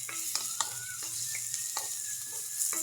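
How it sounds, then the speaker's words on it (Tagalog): Garlic and onion sautéing in a pan for vegetable lumpia filling, a steady near sizzle punctuated by sharp rhythmic spatula strikes and scrapes. "Lalagyan natin yung ating bawang at sibuyas. Ayan konting gisa-gisa lang mga sis."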